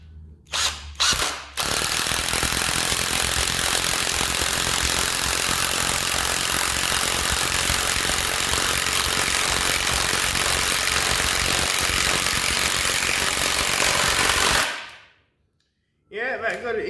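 An Ozito 18V impact driver rattles loudly and without a break for about thirteen seconds as it sinks a 100mm batten screw into wood, then the noise cuts out.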